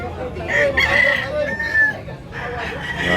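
Roosters crow repeatedly at a busy chicken market in Tabunok, Cebu, several loud nearby cock-a-doodle calls overlapping with clucking and faint background chatter.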